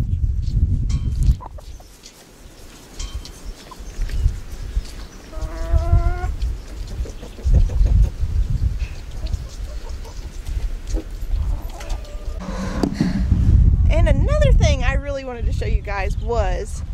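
Baby chickens moved outdoors into a chicken tractor peep and cluck in short, scattered bursts, close by, over ongoing talking and rustling.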